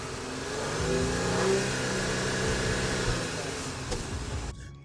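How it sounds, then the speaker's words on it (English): A 2012 Audi A7 quattro engine revs up and holds a rising mid-pitched roar before easing off, recorded close by and without speech. "let's take a listen to them ponies under the hood"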